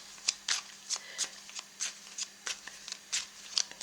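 Playing cards are shuffled by hand in a quiet room, a series of soft riffling bursts in an uneven rhythm, fairly close.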